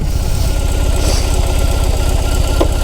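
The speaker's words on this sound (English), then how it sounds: "I'm going to try to start up the bike again." A BMW R18 motorcycle engine idles up close, a loud, steady, low throbbing pulse with a rough mechanical rumble running throughout.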